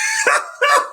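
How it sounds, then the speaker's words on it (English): A dog gives two quick barks, close and fairly loud, with a short gap between them and a faint hum underneath. "That was the dog."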